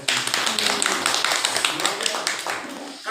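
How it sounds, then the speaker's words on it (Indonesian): Clapping from an audience at a high school class 12 farewell ceremony: a dense, lively burst of many hands, loud and continuous for a few seconds. "Tepuk tangan dulu buat mereka semua."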